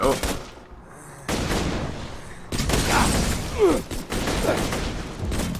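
Automatic gunfire in the video game Borderlands 2 comes in dense, loud bursts with sharp repeated cracks and booms. A voice talks under the shots.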